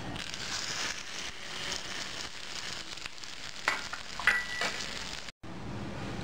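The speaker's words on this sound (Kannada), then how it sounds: "ಇದಕ್ಕೆ ಒಗ್ಗರಣೆ ಹಾಕ್ತಾಯಿದ್ದೀನಿ" Curry leaves and mustard seeds crackling in hot oil as a tempering for uchellu chutney, a dense continuous sizzle with scattered pops and spatters close by, cutting off abruptly near the end.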